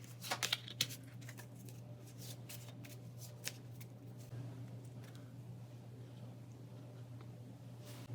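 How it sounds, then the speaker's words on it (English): A deck of Pathfinder Adventure Card Game cards being shuffled by hand, opening with a few quick crisp riffles and then settling into soft, continuous quiet shuffling, close and alone. "And the proxy will be shuffled back into the deck."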